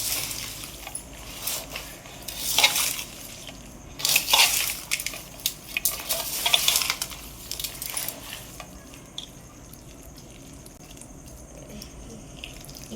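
Thick tomato pickle mixture with tamarind and salt being stirred and scraped up from the bottom of a large pot, giving wet, squelching, crunchy scrapes in irregular bursts that fade toward the end.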